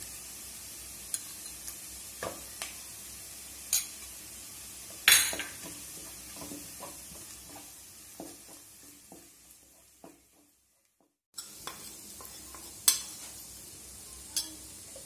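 Onions with turmeric powder stir-fried in a pan, a soft steady sizzle punctuated by scraping and clinking of a spoon against the pan, with a brief near-silent pause before the frying resumes.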